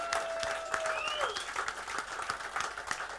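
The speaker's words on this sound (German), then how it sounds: "Und nun begrüßen Sie mit einem donnernden Applaus" Steady audience applause fills a German celebrity talk show studio as the host is welcomed, continuous and fairly even throughout, with crowd voices and whistles mixed in.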